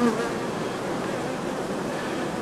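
Honeybees buzz steadily across brood comb as a young bee chews through its wax cap to emerge, a close, continuous insect drone with no voices.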